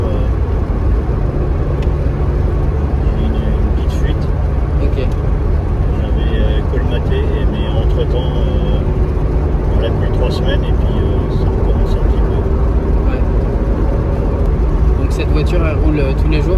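A Honda Civic CRX VTEC with a small exhaust leak drones loudly and steadily while driving, its engine and exhaust noise continuous throughout, with voices talking over it.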